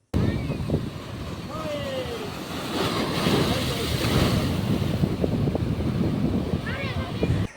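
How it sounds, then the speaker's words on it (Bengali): Big high-tide waves roaring continuously onto a sea beach, a broad rushing surf with strong wind buffeting the microphone throughout. "তোমরা জাস্ট ঢেউগুলো দেখো আর এই সমুদ্রের গর্জনটা"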